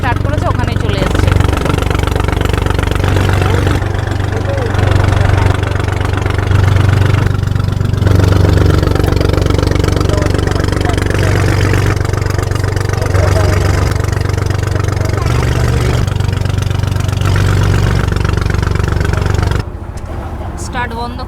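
A boat's motor runs loud and steady on a river, a continuous low drone that drops away near the end as it is switched off.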